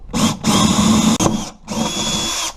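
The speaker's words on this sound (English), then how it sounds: "I'm going to go ahead and screw a hole in each corner to make cutting it easier" A power drill drills holes in a kitchen cabinet while a range hood is installed, running in two loud, close whirring bursts separated by a short pause.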